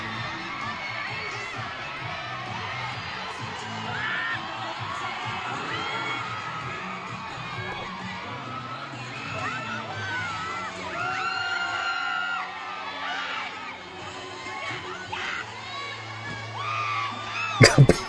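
Fans of the Filipino group SB19 cheer and whoop in a dense crowd at an outdoor street busking show in Singapore, with shouts and screams rising steadily throughout and a few sharp loud bursts near the end.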